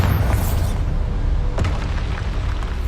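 A heavy, rumbling explosion from a blasting spell in the Hogwarts Legacy video game, dense low boom sustained throughout with a sharper crack midway, loud and without speech.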